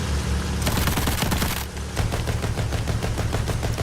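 Rapid bursts of automatic gunfire in the video game Battlefield 1 crackle continuously, dense rattling volleys with a short lull midway before the shooting resumes.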